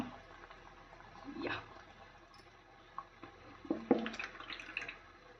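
Fish curry bubbles in a pot, making faint, scattered pops and soft liquid blips over a quiet kitchen background, with no one talking.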